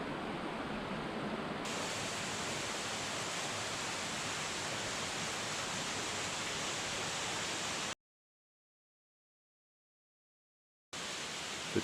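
Avalanche Falls, a 45-foot waterfall in Flume Gorge near Lincoln, New Hampshire, gives off a steady broadband roar heard from a distance, faint and even, cut off by a few seconds of silence near the end.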